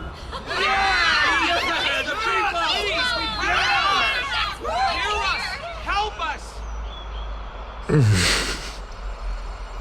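A crowd of townspeople in the video game Honkai Star Rail murmurs and chatters in a continuous hubbub, with overlapping voices rising and falling before a brief sharp effect near the end.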